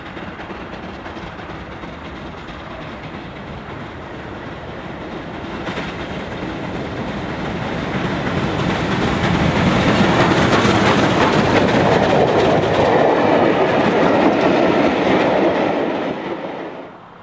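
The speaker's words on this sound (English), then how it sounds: "Clan Line accelerates away from Northam Junction ahead of another fast run back to the capital." Steam locomotive Clan Line accelerates away from Northam Junction in Southampton hauling a train, a broad rushing roar of exhaust and rolling wagons that builds steadily louder and fuller before easing near the end, with no voices.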